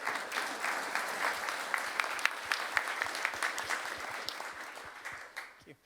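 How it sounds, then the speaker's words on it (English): An audience at a Space Resources Week conference session on regolith claps after a talk, a dense, steady round of applause that holds for several seconds before tapering off, with no voices over it. "So one more round of applause, please."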